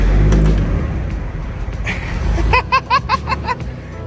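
A 600hp JDM Toyota Supra MK4, unstarted for over a year, cranks and catches: a deep rumbling idle fades, then a series of rapid revving bursts and pulses, with people chattering and laughing nearby.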